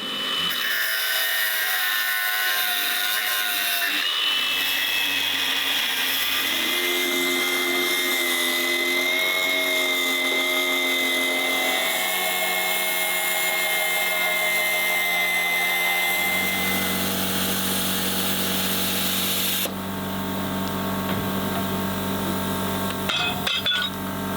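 A power tool cuts along a weld bead on a truck chassis being cut down for a military shelter, a loud continuous grinding whine that shifts pitch as it bites and eases, with no talk.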